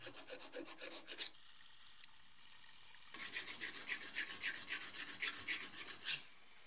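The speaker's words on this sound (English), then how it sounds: "I'm using different types of files to smooth out the undamaged surfaces and any rough edges." Metal files rasp in quick rhythmic back-and-forth strokes across an old Record 24-inch Stilson monkey wrench, smoothing its surfaces and edges. The strokes are close and steady, with a brief change of tone partway through.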